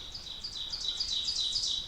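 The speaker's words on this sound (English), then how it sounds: "And just listen to those birds." Birds sing beside a beaver pond on a woodland hike, their high, rapid chirping trills repeating quietly over soft outdoor background noise.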